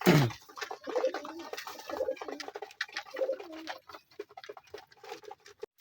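Kaldam pigeons coo beside their newly hatched chicks: a close, repeated series of soft, low cooing phrases in an uneven rhythm, with no voices heard.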